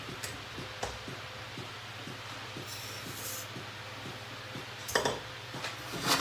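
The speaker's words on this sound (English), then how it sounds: "Mix that around just to get it flat in the pan." Granulated sugar, one cup, is stirred around a pan on a stove set near high heat for caramel, giving faint, regular scraping ticks with a couple of sharper metallic clinks, close and with no talk.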